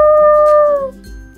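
Cartoon wolf howling in a Peppa Pig Paintbox app game, a single loud, drawn-out tonal howl that slides slightly downward before fading, heard alone.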